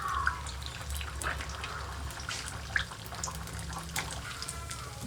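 Pieces of sesame dough frying in hot oil give a steady, close, crackling sizzle with scattered sharp pops throughout, and no talking.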